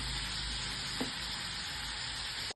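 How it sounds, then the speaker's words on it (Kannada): Paneer cubes sizzle steadily while frying in a pan for paneer biryani, a dense continuous hiss with a brief stir-like tap near the middle, close and fairly quiet, with no voices. "ಜಸ್ಟ್ ಸ್ವಲ್ಪ ಹಿಂಗೆ ಫ್ರೈ ಮಾಡ್ಕೊಳ್ಳಿ."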